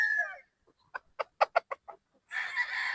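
A two-year-old Sweater Gilmore gamecock rooster gives a quick run of close, distinct clucks of about six or seven notes, between brief stretches of louder noise at the start and end.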